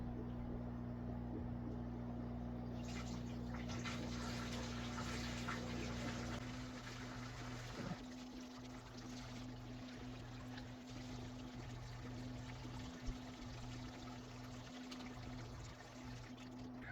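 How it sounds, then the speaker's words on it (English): Water pouring steadily into an aquarium tank, a continuous rushing trickle over a low steady hum, the flow changing character partway through with faint knocks. "now it's time for my favorite part, filling it up with water"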